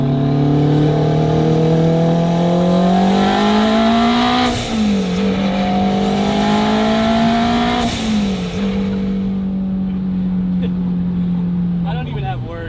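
Turbocharged all-wheel-drive Honda RSX with a K20 engine pulling hard through the gears, the engine note climbing steadily, dropping at each shift, then climbing again, loud and close from inside the car.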